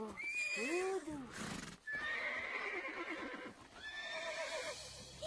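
A horse on a ranch gives loud close whinnies, several in succession, with hoof clatter and stamping between them.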